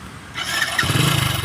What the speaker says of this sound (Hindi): यहाँ पर बाइक स्टार्ट हो चुकी है